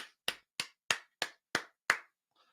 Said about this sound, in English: I'll give them a few claps.